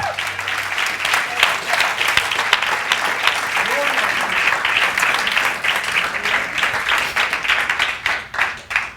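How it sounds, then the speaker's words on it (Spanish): A church congregation applauds during a Spanish-language sermon, a dense, steady wash of many hands clapping that fills the whole stretch at close, loud level, with a few voices mixed in. "Dele palmas al Señor."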